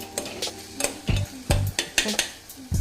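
Rock salt being stirred into food in a pan while making fenugreek pulao, with a quick series of close scraping and clattering strokes over a soft sizzle.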